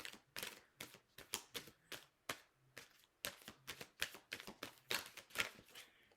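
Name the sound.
shuffling a deck of tarot cards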